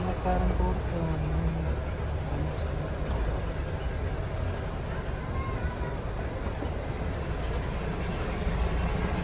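Ooty to Coonoor toy train running, a steady low rumble and rattle of wheels and carriages continuing throughout at close range, with a faint high whine overhead and voices murmuring in the background.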